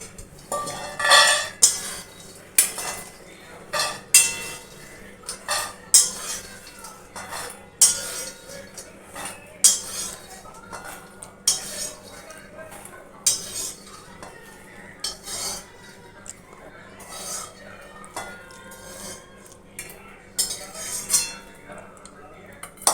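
Roasted makhana (fox nuts) scooped out of a pan with a metal spoon, repeated sharp clinks and scrapes of utensil on cookware at an irregular pace, close and fairly loud.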